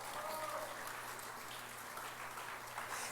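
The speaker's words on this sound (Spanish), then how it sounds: "dar un aplauso a Jesús, gloria a Dios." A church congregation claps during a Spanish-language service, a faint, distant spread of applause over a low room hum, with no clear individual claps standing out.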